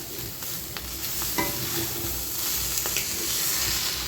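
Chicken fry being stirred in a pan with chili powder, coconut powder and coriander, a steady soft sizzle with scraping spoon strokes throughout, no talking.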